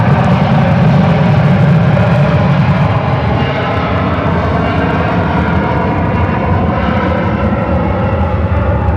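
A British Airways airliner at San Francisco airport roars steadily nearby, a loud, continuous jet engine rumble and whine with no pauses.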